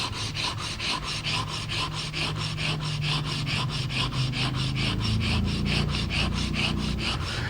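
Steel back of a Japanese chisel being ground flat on an abrasive surface makes a loud, continuous rhythmic rasping, quick back-and-forth strokes close by, with no talking.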